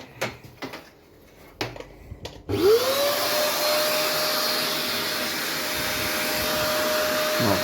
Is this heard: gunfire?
no